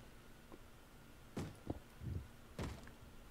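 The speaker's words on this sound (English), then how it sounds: "I hear something banging on a door" A zombie bangs on a door in Minecraft with a few dull, hollow thuds. Two louder knocks and some softer ones come at uneven intervals against a quiet background.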